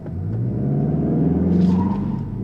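A Mazda CX-30 turbo pulls hard from a standstill up a slight incline, its engine a deep, rising rumble that grows steadily louder as revs climb, heard alone without talk.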